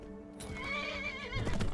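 A horse in Skyrim lets out a loud, close whinny with clopping hooves underneath, the hoof beats growing busier toward the end.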